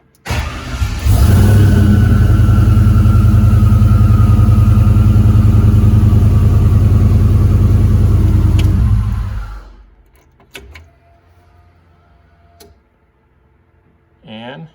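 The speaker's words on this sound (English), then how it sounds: "If you listen there, you can hear the fuel pump kick on." An electric fuel pump priming in a car with an LS engine swap and a new American Auto Wire harness, heard as a loud, steady buzzing whine for about eight seconds that then cuts off, leaving faint clicks.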